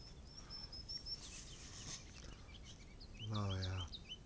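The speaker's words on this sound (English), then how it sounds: "Birds in the morning." Birds call and chirp outdoors at sunrise, a run of high, thin notes repeating through the clip over a quiet background, with a brief louder, lower burst near the end.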